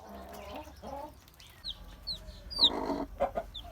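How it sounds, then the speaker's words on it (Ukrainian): A Minorca hen clucks in short throaty bursts close by, mixed with high peeping chirps of her newly hatched chicks and low background noise. "курочка мінорка стала мамою, нанесла собі яєчок"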